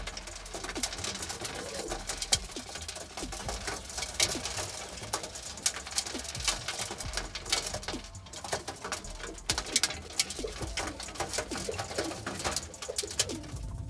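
Roller pigeons in a breeding loft coo repeatedly at close range, soft throaty calls over constant fluttering, shuffling and scratching noise.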